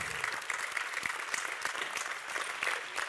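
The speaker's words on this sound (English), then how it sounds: "Let's give them another round of applause." Audience applause at an engineering graduation ceremony, following a vocal performance; dense, steady clapping from a large hall crowd, moderately loud and continuous for a few seconds.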